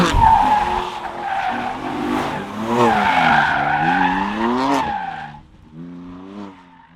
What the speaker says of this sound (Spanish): aquí está Nachete que le gusta derrapar